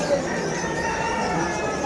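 Chickens cluck at a busy weekend pet market in Malabon, with soft, close calls over a steady crowd murmur.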